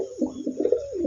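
A Section Shield pigeon coos in a run of several soft, warbling calls close by, with no other sounds over them.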